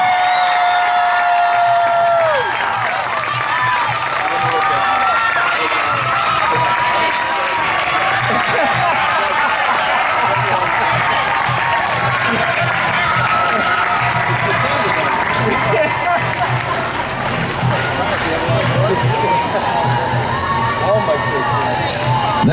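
Parade crowd applauding and cheering as the Sandwich High School cross-country team passes, a steady dense clapping wash with scattered whoops and shouts lasting throughout, close and loud, mixed with crowd chatter.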